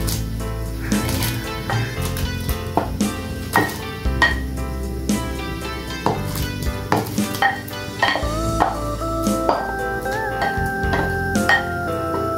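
Bitter gourd (ampalaya) stirred into a simmering mung bean stew in a pot, with a sizzle underneath and repeated scraping clunks of the spoon against the pan at an irregular, close rhythm.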